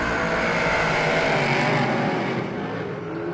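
Dirt-track speedway race cars roar past as they brake down into turn one, a loud, dense engine wash that swells then eases slightly toward the end, with no talk.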